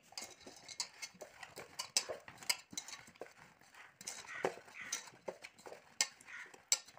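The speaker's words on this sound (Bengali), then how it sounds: "এখন আমি পটলে একটু লবণ আর হলুদ, লবণ আর হলুদ দিয়ে ভালো করে মাখিয়ে নেব।" Pointed gourd (potol) being mixed with salt and turmeric, with light metallic clinks and scraping against a dish in an irregular rhythm, close and fairly quiet.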